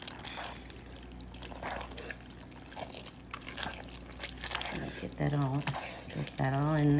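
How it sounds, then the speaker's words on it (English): Milk and egg mixture poured over cheese-coated macaroni for baked macaroni and cheese, a soft liquid splash and trickle near the end beneath a person talking. "I'm just gonna add the milk egg mixture"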